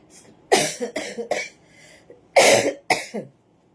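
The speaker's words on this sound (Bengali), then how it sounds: "এই সময়টা কাশিটা বাড়ে।" A person coughs close up, two harsh bursts of several coughs each, separated by a short pause.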